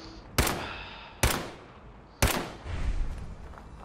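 Three sharp gunshots from the video game Fallout 4, spaced about a second apart, each a loud crack with a short decaying tail, followed by a low rumbling rush after the last shot.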